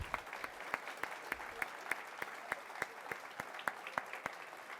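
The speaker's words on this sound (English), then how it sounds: "Let's give him another round of applause." A small audience at a workforce advisory meet-and-greet claps for a speaker. Distinct, fairly sparse claps repeat at an even rhythm in a quiet room.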